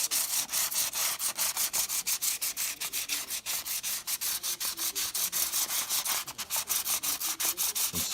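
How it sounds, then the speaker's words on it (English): Fine 600 grit sandpaper rubbed over the crowned frets of a Squier SE guitar fretboard, a steady run of quick back-and-forth scratchy strokes, close and fairly loud, with no voices. "we're gonna now take some 600 grit sandpaper and just go over"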